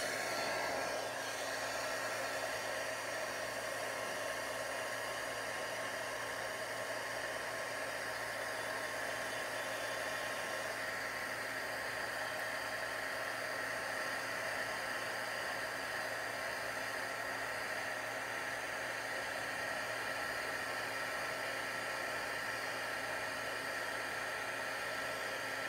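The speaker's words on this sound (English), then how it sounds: "I have to turn the heat gun on, and I'm gonna emboss this" A heat gun blows a steady, unbroken stream of hot air while melting pearl embossing powder; the loud, even roar holds for the whole stretch with no speech.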